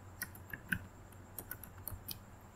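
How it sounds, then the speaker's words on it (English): Keys tapped on a computer keyboard while entering a search term in a Manjaro KDE software manager, a quiet, uneven run of light clicks over faint room hiss. "I will type in find bar Teamviewr"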